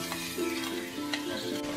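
Chorizo sizzling in hot oil in a pan while being stirred, a brief close crackle with soft scraping stir strokes and no talking.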